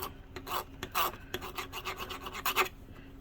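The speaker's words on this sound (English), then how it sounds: "I'm just going to run my spudger across here and scrape all this stuff off." Spudger scraping coating off a wireless keyboard circuit board, a faint, close, dry rasping in quick uneven strokes.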